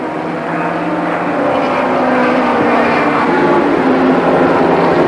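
Race car powered by a Polymotor plastic engine, its loud engine drone building slightly as it passes at racing speed, a steady rising roar with no voices.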